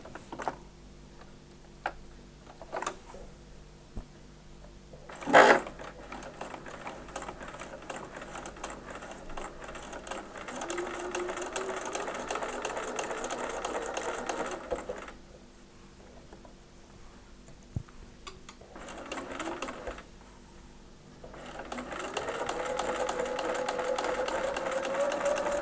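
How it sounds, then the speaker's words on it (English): A sewing machine stitches a pinned seam on an eight-point star quilt block, running in several sustained bursts with pauses between them, its steady mechanical hum close and moderately loud. "So now I'm going to stitch this seam that I've just pinned."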